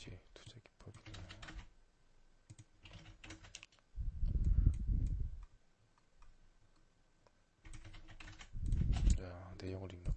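Fingers type on a computer keyboard in quick bursts of sharp clicks, separated by pauses that carry a voice speaking nearby.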